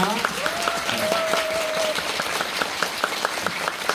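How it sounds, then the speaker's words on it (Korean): Theatre audience applauding the actors after an Elephant Song performance and special event, steady clapping from many hands at moderate level, with a brief tonal sound drifting over it early and a few sharper individual claps standing out. "배우분들 박수를 보내드리겠습니다."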